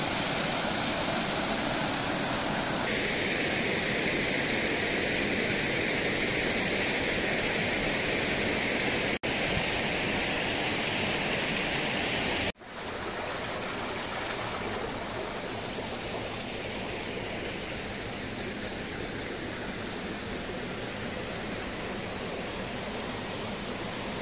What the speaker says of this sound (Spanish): La acequia real, como podéis observar, tenía un desagüe que era para devolver parte del caudal del agua nuevamente